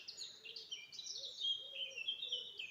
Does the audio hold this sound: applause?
no